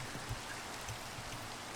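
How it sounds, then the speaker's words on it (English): Steady rain in the video game Minecraft, a dense, even hiss of falling drops with soft low patters, constant and quiet. "That may just be the rain doing that."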